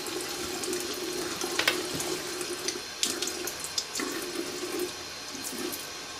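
Water poured steadily over a red North Face Apex Bionic jacket, a continuous close splashing stream with small fluctuations and a few brighter spatters, no voices.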